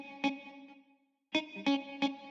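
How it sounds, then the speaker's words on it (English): A synth sound in Ableton runs through a subtle echo effect in a deep house production, with short plucked tonal hits followed by softer repeating tails that carry between notes, heard alone without talk. "We've then got this echo"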